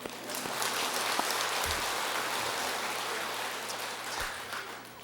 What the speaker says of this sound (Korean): 그분들한테 박수 한번 쳐요.